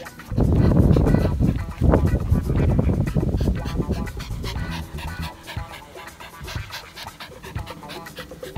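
A dog pants rapidly and steadily in close range, its quick breaths loud and continuous and sometimes overlapped by people talking.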